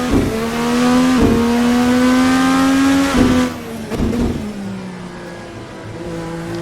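A 2012 Indy car engine in Virtual Racing Cars, revving high and steady, with sharp dips and climbs at each gear shift and a drop-off in pitch near the end, loud and alone.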